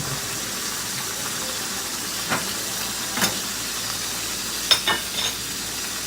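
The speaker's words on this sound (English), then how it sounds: "Y'all hear that sizzle?" Chicken pieces sizzle skin side down in a cast iron pan, giving a steady, moderately quiet frying hiss with a few faint pops and crackles scattered through it.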